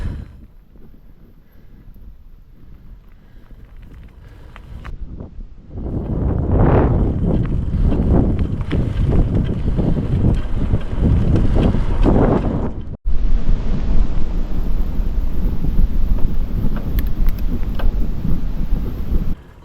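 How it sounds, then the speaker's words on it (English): Gusty wind roars across an exposed hilltop above the Trent Valley on a winter morning, quiet at first then rising into loud, continuous buffeting that stays strong to the end. "It was quite windy there, high up above the Trent Valley"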